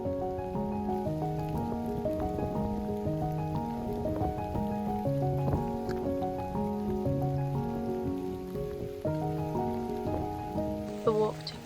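Steady rain falls on surfaces during a forest and lakeside hike around a lake in North Wales, a soft continuous patter running underneath a louder melodic music track throughout.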